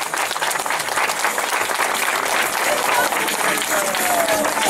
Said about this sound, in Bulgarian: Аплодисменти за победителите.